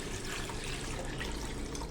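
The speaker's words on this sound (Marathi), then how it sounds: "ह्या मिक्सरच्या भांड्यामध्ये पाणी घालायचं" Water runs steadily into a mixer jar for about two seconds, a continuous close splashing fill with no voices.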